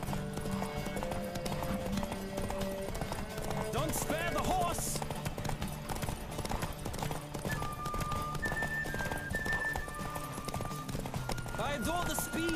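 Galloping horse hooves in The Witcher 3 video game clatter in a quick, steady rhythm close by, layered under game music with brief whinny-like tones and occasional voices.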